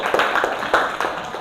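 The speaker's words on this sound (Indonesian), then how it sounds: "tepuk tangan dulu untuk kita semua" Students clap hands together at the end of a group maths lesson, a short run of several distinct claps from a small group, fairly close.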